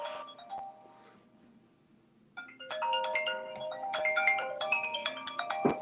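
Phone ringtone for an incoming call plays after a quieter stretch, a bright multi-tone electronic melody repeating steadily at moderate volume with no talking over it.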